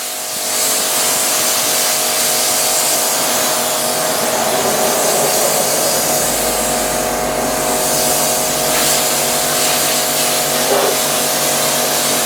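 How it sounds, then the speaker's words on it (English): A pressure washer sprays to rinse drying aid off a car, giving a loud, continuous hissing roar that holds steady throughout with no pauses. "So now I'm going to power wash off the excess drying aid"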